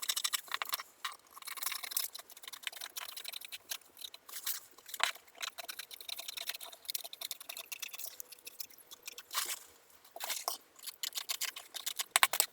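Scissors cut out a paper bodice pattern in a series of quiet, irregular snips and rustles, close by, with short pauses and no talk.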